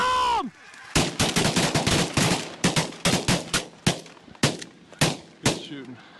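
A volley of shotgun blasts rings out at flying geese during a large goose hunt, more than a dozen loud overlapping shots that thin out into separate reports, after a brief shout.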